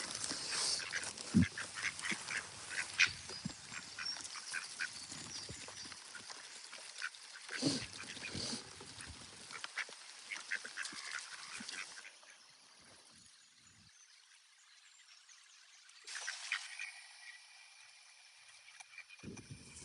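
Pet ducks quacking in a loose, irregular chatter at close range, strongest early on, then thinning into quieter calls and a brief bright burst near the end.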